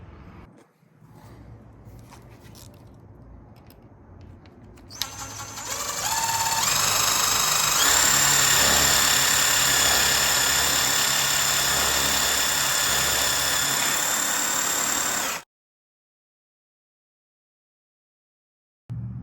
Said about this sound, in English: All right, we've got our holes drilled and ready to go.